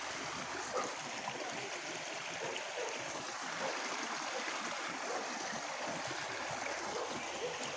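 A stream flowing outdoors, a steady close rush of water with continuous bubbling and gurgling texture, moderately loud and unbroken throughout.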